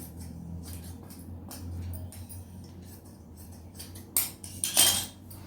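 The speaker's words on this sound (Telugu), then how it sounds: "కింద ముందు సమానంగా కట్ చేసేసుకుందాం." Scissors cut through saree fabric folded in four, making quiet, intermittent crunching snips over a low background hum, then a couple of louder, sharper cuts near the end.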